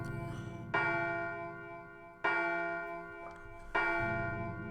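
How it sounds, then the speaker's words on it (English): A clock bell in the video game Silent Hill chimes three times at a steady, slow pace, each ringing strike loud and sustained before fading under a low ambient drone. "Bell chimes."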